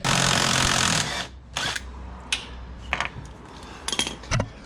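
Car body mount bolts being undone with a hand ratchet: a dense, steady mechanical rasp for the first second, then a series of short, separate clicking bursts spaced irregularly, close and fairly quiet.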